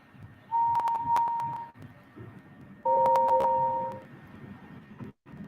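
A train whistle in the Trainz railway simulation game sounds in two clear blasts, the first a single steady tone and the second a fuller two-note chord, heard over soft background rumble.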